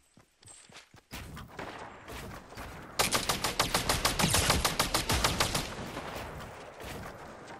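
Gunfire in the video game Fortnite: a few scattered shots, then a rapid, loud burst of evenly spaced automatic fire lasting several seconds before tapering into a couple of final shots.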